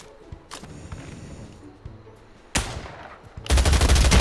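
Gunfire in Pavlov VR, scattered clicks and handling noises followed by a sharp close shot and then a loud sustained burst at the end.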